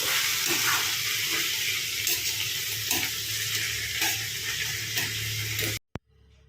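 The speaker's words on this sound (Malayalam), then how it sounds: "ടൊമാറ്റോ ഇട്ട് കൊടുത്തു അതും ഒന്ന് വഴന്നിട്ടുണ്ട്" Tomatoes sautéing with onion, green chilli, ginger and garlic for a Kerala egg curry, a steady loud sizzle and frying hiss with stirring scrapes throughout, cutting off abruptly near the end.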